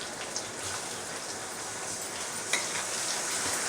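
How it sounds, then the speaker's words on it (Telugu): Ginger garlic paste fries in a pan with a continuous, even, crackling sizzle, loud and close. A few brief louder pops stand out. "పచ్చివాసన పోయేదాకా వేయించుకుందాం అల్లం వెల్లుల్లి పేస్ట్ని"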